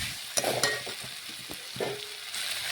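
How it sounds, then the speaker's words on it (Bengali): Fried pointed gourd being stirred in a pan with potato and carrot for a vegetarian posto dish, soft sizzling under several clinks and scrapes of the spatula, close by with no talk. "একসাথে মিশিয়ে নেব আলু গাজরের সাথে নাড়াচাড়া করে।"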